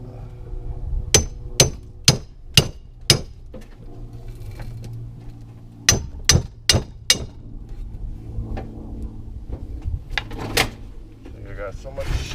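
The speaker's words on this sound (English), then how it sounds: "Alright, got my hammer now." Hammer blows strike metal while copper electric motors are pried apart, two quick series of about five loud sharp bangs each, then scattered softer knocks amid workshop clatter.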